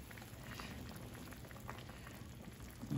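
Salmon belly sinigang soup simmers with a steady bubbling in a pot, continuous and close, with a low rumble and no talking.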